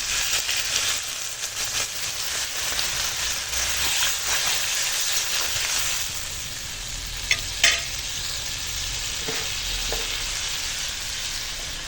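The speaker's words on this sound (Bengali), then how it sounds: "এবার অল্প করে জল দিয়ে দেবো" Water hits spices frying with vegetables in a pan, giving a steady loud sizzle and hiss with stirring scrapes throughout and a few sharper clinks near the end.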